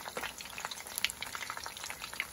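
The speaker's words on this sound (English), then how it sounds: "we cooked the fish nicely now" Fish fries in a pan for escabeche, a bright, steady sizzle of hot oil crackling and popping close by, with a few sharper spatters and no voices.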